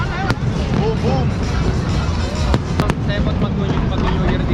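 Fireworks bursting outdoors, several sharp bangs and crackles spread across the moment, with crowd chatter and voices continuing underneath.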